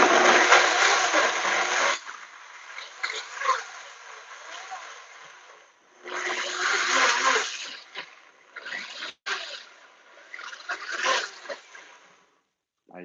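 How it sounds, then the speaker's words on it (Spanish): A kitchen blender grinding avocado salsa ingredients, loud whirring bursts that start and stop several times before cutting off, with someone talking in Spanish between them. "Mi licuadora queda todo perfecto"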